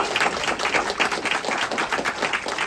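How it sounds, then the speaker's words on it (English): An audience at a tech community meetup in Vancouver gives the three panel speakers a round of applause: a moderate, continuous patter of many hands clapping, somewhat distant and even throughout. "Can we get another round of applause for the three wonderful speakers today?"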